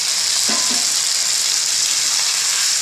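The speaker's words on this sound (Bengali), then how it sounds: "এবার এটাকে ভালো করে কিছুক্ষণ ধরে কষাতে হবে যতক্ষণ না কাঁচা মশলার গন্ধটা চলে যায়" Spices and garlic frying in hot oil for cabbage ghonto with rohu fish head, a loud continuous sizzle with a brief stir near the start.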